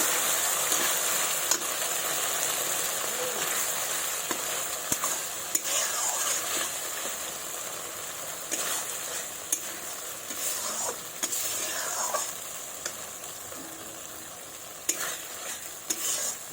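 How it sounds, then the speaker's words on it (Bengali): Fish curry masala with salt is stir-fried in oil for a ridge gourd and fish dish, a moderate steady sizzle with repeated spatula scrapes and clicks against the pan. "এবার ভালোভাবে কষে নেব।"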